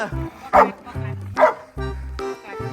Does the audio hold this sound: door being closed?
no